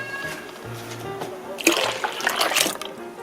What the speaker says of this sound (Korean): 지금 넉넉히 물을 부어줍니다.